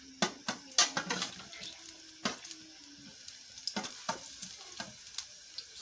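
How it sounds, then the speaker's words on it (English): Onions sprinkled into hot oil for a vegetable sauce crackle and spit in soft, irregular pops and sizzles, fairly faint and close, with no one talking. "I'll be sprinkling some onions just to um, add that onion flavor."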